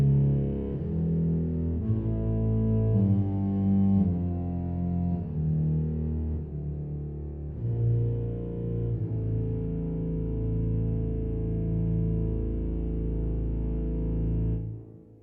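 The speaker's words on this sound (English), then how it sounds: "You're listening to 10 analog synthesizers in a massive hall playing sine waves" Ten analog synthesizers play sine-wave chords together in a massive hall, giving a sustained, organ-like drone with low, meaty bass notes and chord changes every couple of seconds before the sound fades at the end.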